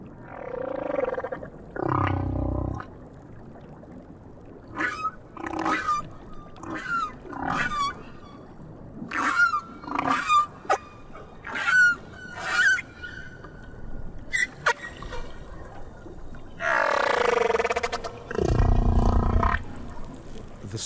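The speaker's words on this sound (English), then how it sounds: "The whales in different oceans have different songs." Humpback whale song from the South Pacific, a sequence of moans, rising whoops and groaning calls, some long and swelling, others short and pulsed, loud and close with resonant underwater tone and no talk.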